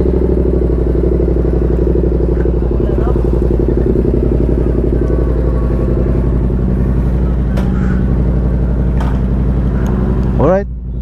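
A Yamaha MT-07 motorcycle in neutral runs with a steady, loud, close engine drone and a low rumbling pulse, a few clattery ticks over it and a quick rising blip of revs near the end.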